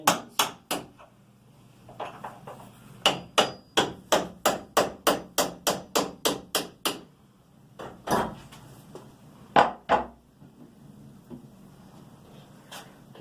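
Hammer tapping a door hinge pin down into a squeaky door's hinge, a series of sharp, close metallic knocks in quick, even runs with short pauses between groups, loud and clear with no talking.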